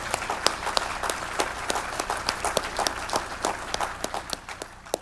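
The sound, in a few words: audience applause at a school charity gala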